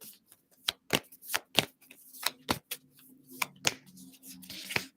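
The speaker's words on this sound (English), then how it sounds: "Gotta shuffle these cards, mix them up real well." Tarot cards being shuffled by hand, a run of crisp riffling flicks and soft slaps in an uneven rhythm, close and fairly quiet with a faint steady hum beneath.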